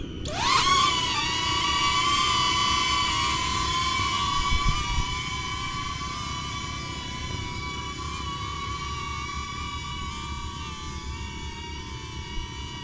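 A DJI Neo drone buzzes steadily just after takeoff, its high whining propeller tone constant and close, with a slight pitch rise at the start and no talking.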